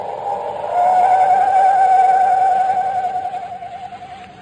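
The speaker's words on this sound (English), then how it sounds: "No wonder the mournful screech of the owl had a familiar sound to Chuck." A mournful owl screech used as a radio-drama sound effect, one long wavering whistled cry that rises in, holds steady, then trails off with a tremolo, heard alone and fairly loud.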